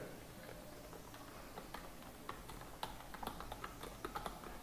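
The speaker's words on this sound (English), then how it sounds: "Like this, I will type some text here." Keys tapped on a computer keyboard while entering text in CorelDraw, an irregular run of light clicks that grows busier toward the end over a steady low hum, close and fairly quiet, no talking.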